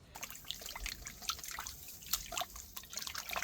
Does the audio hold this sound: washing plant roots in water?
yes